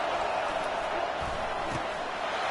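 A raucous stadium crowd roars in a college football video game, a dense, steady wash of noise that holds loud and even throughout with no individual voices standing out.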